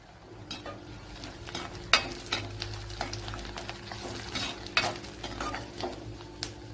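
Garlic and cashew nuts frying in sesame oil, a gentle continuous sizzle under repeated crisp spoon clinks and scrapes against the pan, fairly quiet and close, with no one speaking.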